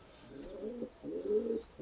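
Pigeons coo in soft, throaty rolling phrases, two clear bursts with a short gap and another starting at the end, close and alone with no talk.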